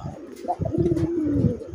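Deshi coloring Raj Golla pigeon cooing close by, a low throaty rolling coo that swells into one drawn-out note, with soft rustling underneath.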